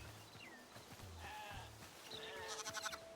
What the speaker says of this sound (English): Oh, here's the sheep too.